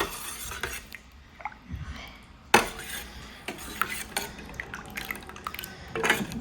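A spoon stirs dal in a metal cooking pot, giving soft scraping and clinking taps with a sharp clank partway through, close and fairly quiet in a home kitchen.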